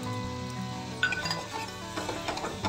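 Spices frying in a pan sizzle steadily while a paste of ground sesame, ginger, green chilli and poppy seed is stirred in, with scraping and a few metal clinks of the spoon against the pan, close and continuous.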